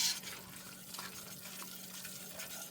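A whisk working a flour roux into onions and celery in a pot for gnocchi soup, giving soft, steady stirring and faint sizzling, quiet and close with no speech.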